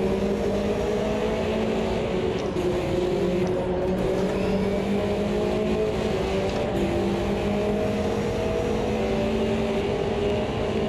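Small race car in Automobilista 2 running flat out near top speed, about 150 mph: a loud, steady high-revving engine whine with a rattly edge, continuous and close, with no voices.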